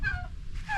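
A turkey on a Filipino chicken farm gives a noisy call, with harmonic honking cries rising over low rumbling background for under a second.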